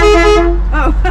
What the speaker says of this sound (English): You have a normal horn here, and then you have an air horn.